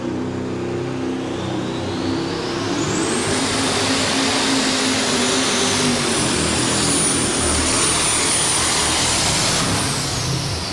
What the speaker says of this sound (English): At the 125-foot mark, Butch, you and I both heard that engine start to go a little bit sour.